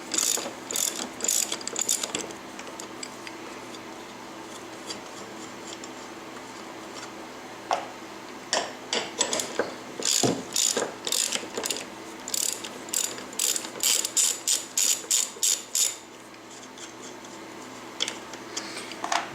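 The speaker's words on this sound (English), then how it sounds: "Next step is to take these three bolts off right here. Those are 13 millimeter" A hand ratchet clicks rapidly while loosening 13 mm strut bolts on a Saturn S-Series car, in close repeated bursts of ticking strokes with short pauses between runs and no talk.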